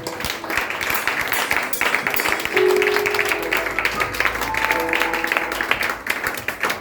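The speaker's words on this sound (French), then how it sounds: "On acclame encore Jésus" A church congregation applauds Jesus with steady, dense clapping that fills the room and goes on throughout, mixed with music and voices.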